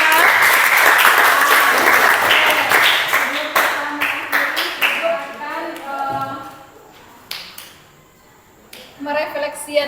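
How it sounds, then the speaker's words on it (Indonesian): Loud classroom applause from students, strong at first then breaking into scattered, uneven claps that thin out and fade before a few final bursts, with voices talking over the later part. "Oke, tepuk tangan untuk kita semua."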